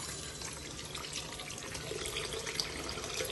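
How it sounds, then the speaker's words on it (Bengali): Broth being poured into an egg and potato curry, a steady wet trickle and splash that runs evenly from start to finish at close range with no talking. "পরিমাণ মতো ঝোল দিয়ে দিব।"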